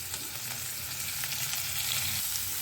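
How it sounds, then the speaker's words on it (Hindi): Chopped onions and green chillies frying with cumin in a pan for sarson palak saag, a steady soft sizzle close up with no talking. "प्याज को हम हल्का गोल्डन ब्राउन होने तक फ्राई करेंगे।"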